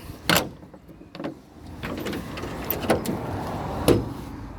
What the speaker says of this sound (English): The door, back door works.